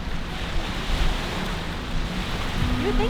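Waves wash against the shore of Lake Tahoe, a steady surf-like rush with wind buffeting the microphone, with no voices.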